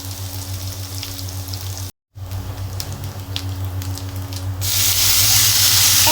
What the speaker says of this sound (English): Add garlic and continue frying for a while.